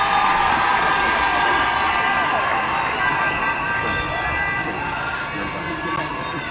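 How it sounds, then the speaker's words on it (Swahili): A large crowd cheers and applauds at the presidential swearing-in of a new deputy president at KICC in Nairobi, a dense steady roar of voices and clapping that holds loud throughout, easing slightly toward the end. "Makofi tafadhali."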